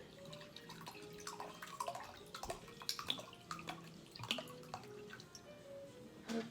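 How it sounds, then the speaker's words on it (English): A cup of water is poured into chocolate cake batter, giving continuous splashing and trickling with scattered drips and clinks, moderately close and without talk. "And then our last thing is we're gonna add our cup of water."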